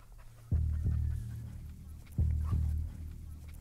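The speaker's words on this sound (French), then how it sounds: "qu'est-ce que je vois arriver? Un chien." A dog, an American Staffordshire Terrier, pants heavily nearby with two pairs of short, loud bursts that may be barks or huffs, over faint background noise.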